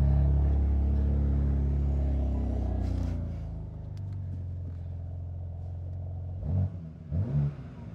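A 2021 BMW G80 M3 engine rumbles loudly and revs, then settles into a quieter idle with a deep stock exhaust burble and a couple of short blips near the end.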